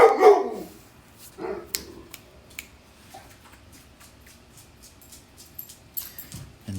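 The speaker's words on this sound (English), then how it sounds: "Sorry, dog's barking now." A dog barks in a loud nearby burst at the start, then gives a few scattered fainter barks and yips over a quiet room.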